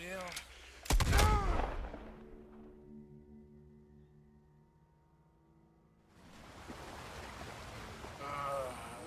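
A loud burst of gunshots opens a cowboy video game firefight, followed by a quieter humming stretch before more action noise returns near the end.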